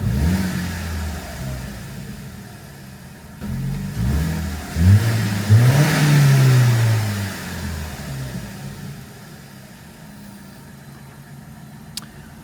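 A BMW E90 car engine idles, then revs up briefly and settles back to a steady idle, close and alone.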